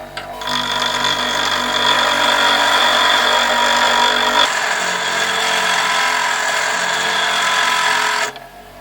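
A bench grinder sharpens a lathe tool, a loud steady high-pitched grinding whine that runs continuously for about eight seconds, changing tone partway through as the tool moves to the finer-grade wheel, then cutting off abruptly.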